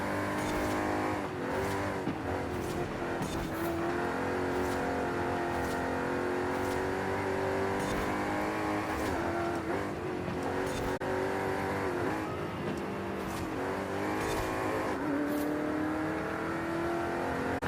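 Ford GT40 race car engine in Forza Horizon 5, a loud continuous roar that climbs and falls through repeated gear changes, with revving pitch sweeps and brief tire squeal throughout.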